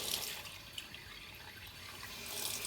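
Water runs steadily from a tap into a clogged master bedroom bathroom sink, a continuous close hiss and splash with small dripping variations that swells slightly toward the end.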